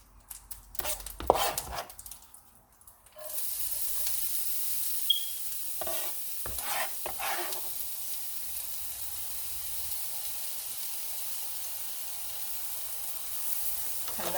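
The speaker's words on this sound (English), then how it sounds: "we're going to go ahead and put our onions in, and we're going to cook it until it's transparent" Onions frying in fat in a pan for a Marsala mushroom sauce, a steady close sizzle and hiss after a few sharp stirring clatters, with occasional utensil scrapes over the continuous frying.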